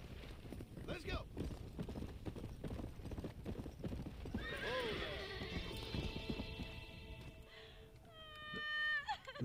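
Horse in the Red Dead Redemption Undead Nightmare game, clip-clop hooves at a gallop with a loud drawn-out whinny midway and another near the end, someone talking briefly over it.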